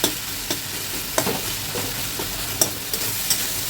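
Tomatoes with cumin and coriander powder are stirred in a frying pan over a constant sizzle, with a spoon scraping and clicking against the pan every half second or so, close up and without talk.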